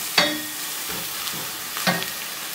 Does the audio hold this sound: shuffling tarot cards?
no